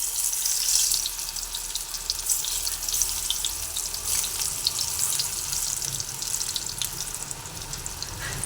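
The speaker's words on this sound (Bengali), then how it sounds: "আর একটা দিকে ভাজা হোক" Steady hiss and crackle of spinach fritters frying in hot oil, continuous and close, with no voices over it.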